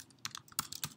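Light typing on a computer keyboard, a handful of soft quick key taps over about a second, faint and close with no voices.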